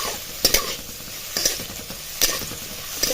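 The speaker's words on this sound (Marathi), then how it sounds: "कांदा चांगला लाल होईस तोर परतायचा आहे" Onions sizzle in a hot pan, browning for amti, as a utensil scrapes and stirs about once a second, close up, with no talking.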